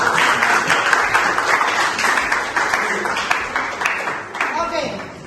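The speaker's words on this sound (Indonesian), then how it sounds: "Kita beri tepuk tangan." Classroom audience clapping together for a student group presentation, a dense steady patter that runs the whole stretch and thins toward the end as a voice begins speaking.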